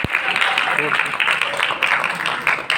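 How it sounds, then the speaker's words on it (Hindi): An audience claps at an evening parliamentary debate in a college hall, with the applause running loud and dense for the whole stretch as voices carry over it. "मैं जोरदार ताली मेरे लिए बजा दीजिए।"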